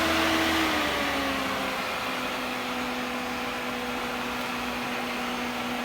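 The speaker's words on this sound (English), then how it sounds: "I knew it had an electric fan, but I didn't know it came on with the ignition off." A Kawasaki ZX7R's electric cooling fan runs with the ignition off, a steady whirring hum with a faint tone that drops slightly early on and then holds constant, close and alone.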